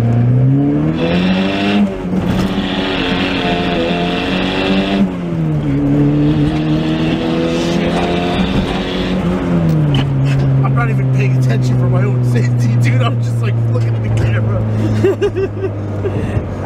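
A boosted Honda Prelude engine revs and pulls hard while driving along a street, its pitch rising and dropping through gear changes, loud and close throughout.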